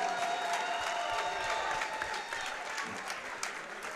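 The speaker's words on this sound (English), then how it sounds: "let's have a great round of applause for both warriors" A boxing crowd in Tampa applauds both fighters after a ten-round championship bout, a steady wash of clapping with scattered cheers, moderately distant and filling the arena.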